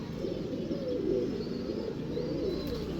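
Female dumchir pigeons kept by a breeder give soft, repeated low cooing over a faint steady background, close and gentle throughout.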